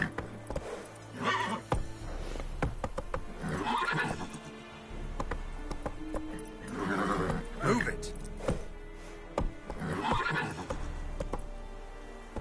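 Roach, the horse in the video game The Witcher 3: The Wild Hunt, neighs and whinnies several times in loud bursts, with clip-clopping hooves and background game ambience beneath.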